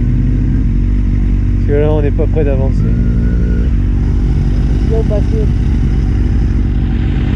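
Motorcycle ridden on the roads toward the Giens peninsula, a loud close engine rumble and wind noise throughout, with someone speaking French over it.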